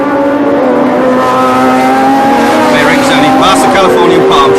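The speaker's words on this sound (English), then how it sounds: "It's an extraordinary scene, isn't it, to see these cars racing in the streets." Racing cars tear through the Long Beach street circuit in 1976, a steady loud engine drone with rising and falling whines as cars pass, a commentator talking over it.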